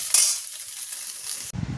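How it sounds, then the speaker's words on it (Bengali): Potatoes sizzle in a hot frying pan with a steady, close hiss, briefly broken by a stirring clatter near the end. "চলো এটা নামিয়ে নিয়ে এবার এই আলুগুলো ভেজে নেব"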